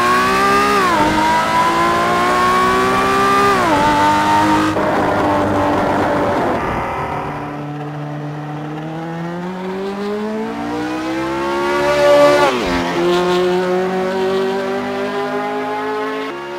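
Porsche 917K race car in a racing video game mod, engine screaming at high revs with gear changes, lifts and re-acceleration, and tire squeal through corners, loud and continuous.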